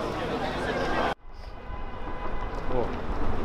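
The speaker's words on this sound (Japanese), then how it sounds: "お、市電通ってる。" A Kagoshima city tram rumbles past on a busy street with a steady rolling roar that cuts off abruptly, then a faint bell-like tone and continuing traffic and crowd noise.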